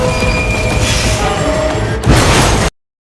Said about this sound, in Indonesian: kendaraan yang ditumpangi oleh Kim dan para tahanan meledak dan terbalik